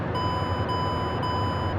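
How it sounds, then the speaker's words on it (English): A steady electronic tone sounds continuously in the cockpit of a Dash 8-Q400 airliner in a flight simulator game, with faint background hum underneath and no talking. "So, plane starts beeping at us, which means we'll get rid of the exterior lights."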